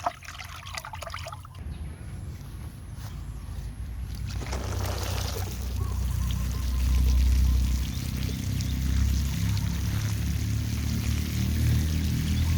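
Liquid is poured onto leaf compost held in a basket, producing a continuous splashing trickle nearby that grows fuller and heavier partway through and stays steady afterward.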